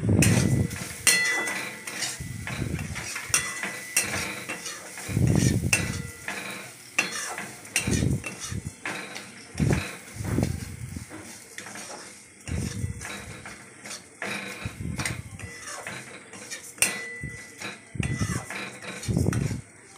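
A utensil stirs sugar into semolina in a pan, making repeated scraping strokes and soft clinks against the metal over a low sizzle, close and continuous throughout.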